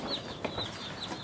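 Faint broiler chickens cluck and peep softly in the background, a few brief calls scattered over low ambient noise.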